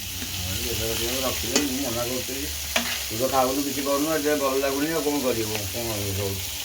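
Fish fries in hot oil on a tawa, a continuous, steady sizzle that carries through the whole stretch beneath people talking.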